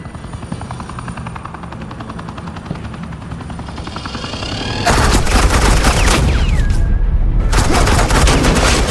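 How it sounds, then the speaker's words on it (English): Suppressing gunfire in the video game Batman: The Enemy Within: a loud, continuous burst of rapid automatic fire erupts midway over a steady whirring, helicopter-like drone, briefly breaking off before resuming. "This is Agent Quinn, suppressing fire."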